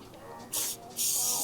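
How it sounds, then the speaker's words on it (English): Two short, close hissing bursts of an aerosol can of spray adhesive, the second longer than the first. "And then I'm just gonna take some spray adhesive."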